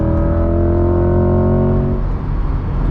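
A Corvette C8 accelerating hard, its engine note rising in loud harmonic tones for about two seconds before easing off into a lower rumble.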